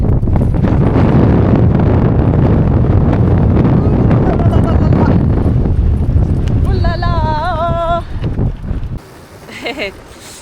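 Strong wind buffets the microphone outdoors in Australia, a loud continuous low rumble that covers everything, with a voice talking briefly near the end as the gusts drop away.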